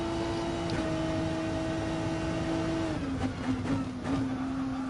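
A race car lapping in the video game GT Sport, heard as a steady droning engine note that drops in pitch partway through as the car shifts and slows, continuous and fairly loud with no talking.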